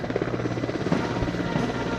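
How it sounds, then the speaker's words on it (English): Three Mi-17 V5 military helicopters flying in formation over the tarmac at an Indian Air Force Day parade, giving a steady, fairly loud rotor throb with no talk. "In perfect formation there, 3 Mi-17 V5 helicopters right over the tarmac."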